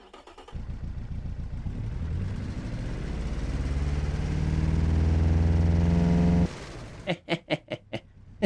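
An aircraft engine of 125 horsepower runs on a test in the Automation car-building game, giving a steady droning hum that climbs in pitch for about six seconds, then cuts off abruptly before a few sharp clicks.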